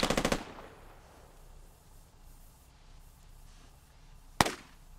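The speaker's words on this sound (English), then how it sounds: "Listen to the power of that G3." Video game gunfire from a G3 rifle: a rapid burst of several loud shots at the start, then a quiet lull, then a single sharp crack near the end.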